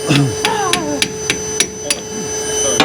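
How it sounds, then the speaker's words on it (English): A spanner taps the top of a metal part in a workshop, giving a series of about eight sharp, ringing metallic knocks spaced unevenly, with a steady mains hum underneath and some voices around the first taps. "Tap the top with the spanner, mate."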